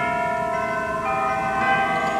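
Chimes of the Fox Theater organ in St. Louis ring out as sustained, layered bell-like tones, loud and alone, with a new struck note entering near the end.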